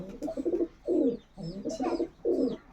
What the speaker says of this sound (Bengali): দুটোই মাদা পায়রা কিন্তু কালাঙ্কা